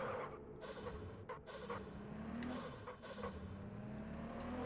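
A drift car's engine revs hard at full throttle in Absolute Drift, a continuous rising and falling roar with harsh bursts of tire and exhaust noise, no voices present.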